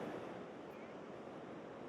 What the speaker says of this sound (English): And this is the Pacific Ocean